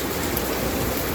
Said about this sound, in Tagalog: Grabe yung baha guys.